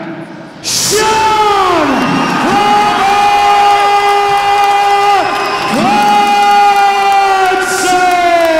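Arena crowd cheering for the winner of a WBC International Muay Thai title fight, loud sustained roaring and whooping that swells after a sudden start, with a few drawn-out bellowing voices and some clapping.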